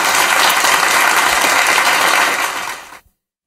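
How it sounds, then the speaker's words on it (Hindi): A crowd at a public panel discussion in Mungeli applauds loudly for about three seconds, in dense and steady clapping that cuts off abruptly into silence. "मैं आप सबसे चाहता हूं कि आप जोरदार तालियों के साथ इस मंच का और इस पैनल"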